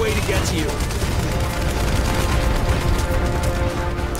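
Dense, continuous gunfire from the PS3 game Terminator Salvation, with overlapping shots forming a loud, unbroken barrage that lasts throughout.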